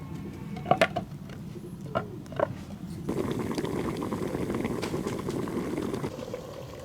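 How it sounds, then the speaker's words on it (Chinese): Fish stew simmering under the lid of a covered clay pot, a soft continuous bubbling hiss with a few light knocks of the lid or pot near the start. "盖上盖子，小火慢炖个4、5分钟。"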